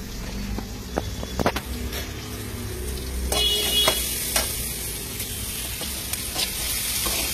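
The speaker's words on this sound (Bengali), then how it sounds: "আলু ভাজা প্রায় কমপ্লিট।" Potatoes frying in a pan, a loud steady sizzle close up with clinks and scrapes of stirring scattered across it, building slightly partway through.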